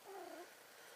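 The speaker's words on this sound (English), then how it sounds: "please excuse my cats, they're getting frisky." Domestic cats getting frisky make a short purring, mewing vocal sound at moderate volume, heard alone over a soft background hiss.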